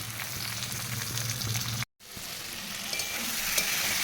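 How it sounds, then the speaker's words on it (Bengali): Spices frying in a pan for a Bengali fish curry give a loud, close, continuous sizzle with stirring strokes, broken by a split-second dropout before the hiss resumes. "মশলা দিয়ে দিলাম একটু জল দিয়ে দিয়ে কষাবো"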